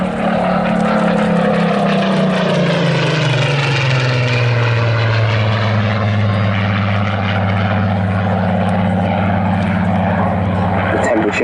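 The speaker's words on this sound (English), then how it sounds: "And there's that beautiful, slow wag of the wings from the Hurricane today" A Hawker Hurricane flies past at the 2019 Southport Air Show. Its loud, droning propeller engine drops steadily in pitch as it passes, while a commentator talks over it.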